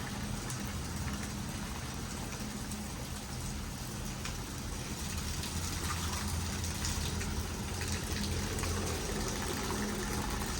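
Water gushes from a pipe into a rain-soaked farm field as the flow picks up after a blockage in the pipe shifts, a continuous, fairly even rushing wash heard alone.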